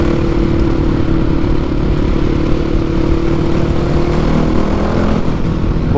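A Yamaha WR450F dirt bike fitted with a new medium baffle in its exhaust rumbles loudly and steadily up close, a deep continuous engine drone with no talk.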